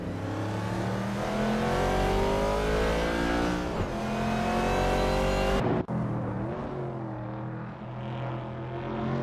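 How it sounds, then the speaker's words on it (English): A 1971 Puma GTB race car in a racing game, its engine holding a loud, steady, buzzing drone that rises and falls in pitch, with a brief drop and shift partway through before the roar settles again. "T-Bomb is driving a 1971 Puma GTB"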